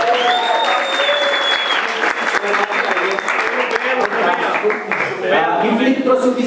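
An audience at a church youth camp talk claps loudly and continuously in warm applause, with some voices and a high whistle-like tone mixed in over the steady clapping.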